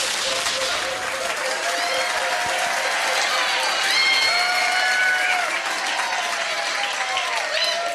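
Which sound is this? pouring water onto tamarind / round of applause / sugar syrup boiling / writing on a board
round of applause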